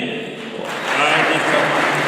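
A congregation bursts into applause for the Virgin of Guadalupe at a village feast in San Juan Mixtepec, Oaxaca, the clapping swelling suddenly from a quieter murmur with voices mixed in.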